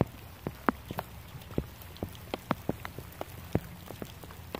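Heavy rain falling outdoors at a fishing spot, a soft steady hiss punctuated by scattered close, sharp drops tapping on a surface at irregular intervals.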